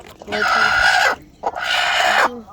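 A farm rooster gives two loud, close, drawn-out calls of about a second each, separated by a short pause.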